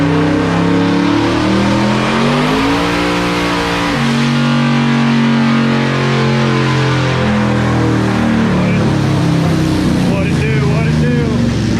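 A twin-turbo LSX V8 in a Cadillac Escalade roars on a dyno, holding a loud sustained high-rpm drone that climbs and shifts pitch, close and overpowering throughout.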